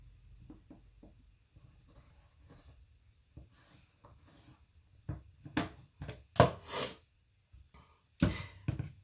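A pencil traces around a pair of scissors on paper, making soft, intermittent scratching strokes close up, with a few sharper taps and rubs toward the end and no voices.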